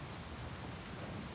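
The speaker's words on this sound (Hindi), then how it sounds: "यहाँ बहुत बारिश हो रही है" Steady rain falls outdoors, a continuous broadband hiss with dense drop patter, fairly quiet and even throughout, with no voices.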